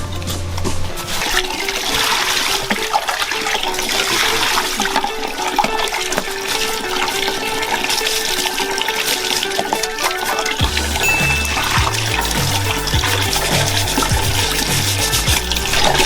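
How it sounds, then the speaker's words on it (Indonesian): Peeled cassava washed in a basin of water for making opak: continuous loud sloshing and splashing of water throughout, with steady rushing flow, close by and unbroken by talk. "Lanjut ke proses pencuciannya. Iya. Oke, kita cuci dulu."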